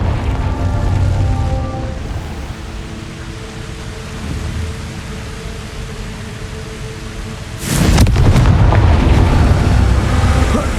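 In Hogwarts Legacy, a Confringo blasting spell erupts as a sudden loud, broad explosive burst partway through, over a steady rumbling, rain-like background of battle ambience.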